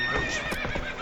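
The horse Roach whinnies in a video game, a short, close, high quavering neigh over brief hoof clatter.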